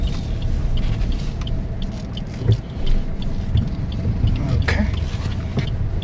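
Maruti XL6 with a manual gearbox driving slowly and turning on a narrow road, a steady low engine and road rumble with a few soft knocks, and some talk over it.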